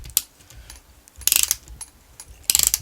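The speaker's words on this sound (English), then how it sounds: "I'm going to drive all of them in and then I'm going to do the final tightening." A ratcheting driver turns screws into a Losi 5ive T RC car during a kit build, giving quick loud bursts of metallic clicks near the mic. There are three main runs separated by short pauses.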